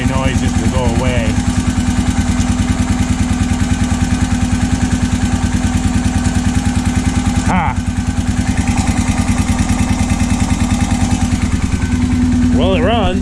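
A Honda 650 motorcycle engine runs steadily at idle, a loud continuous rumble with a clattering edge throughout, briefly dipping midway before carrying on, with a faint bit of talk over it.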